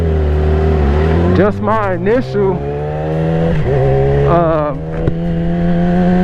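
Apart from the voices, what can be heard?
Yamaha R6 motorcycle revving on a dyno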